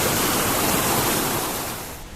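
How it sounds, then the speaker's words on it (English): A steady, loud rush of falling water from Tosh Waterfall in Tosh village fills the air, a broad roaring hiss that eases slightly at the end. "So this is Tosh waterfall."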